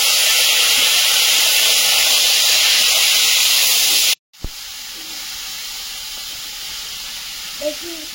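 Oil heats in a pan with panch phoron spices for a chaltar chutney, hissing loudly and steadily up close. A short break cuts the sound midway, then the sizzle continues slightly softer.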